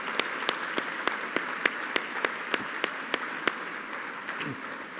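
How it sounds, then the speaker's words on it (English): Audience applause for teachers at a World Citizen award ceremony, a steady wash of many hands clapping with a few sharp, regular claps standing out near the front, fading toward the end. "giving these inspiration teachers a big round of applause"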